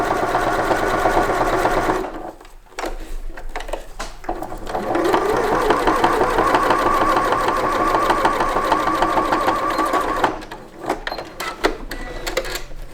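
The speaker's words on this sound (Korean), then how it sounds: "이 뒤쪽으로 이제 박음질 해두었던 부분 그 위에 한 번 더 박음질 한다" Sewing machine stitching a second seam over an earlier line on a curved square zipper pouch, running in long loud mechanical bursts with short pauses between runs.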